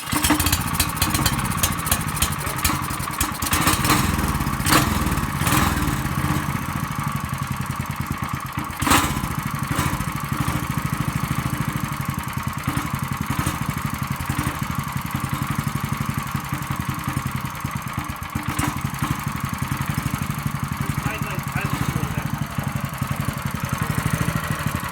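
Small go-kart engine with its governor removed runs steadily with a buzzy, lawnmower-like drone throughout, close and loud, with a few sharper revs and bursts along the way.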